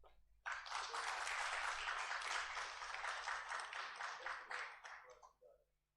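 Audience applause at a certificate ceremony during a national convention of insolvency professionals, a steady wash of many hands clapping that starts abruptly, holds for about five seconds and then tapers off.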